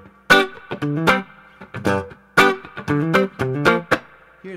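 Clean Telecaster-style electric guitar through a Princeton Reverb-style amp, played alone as a short phrase of plucked notes and ringing chords, close and fairly loud, with no talking.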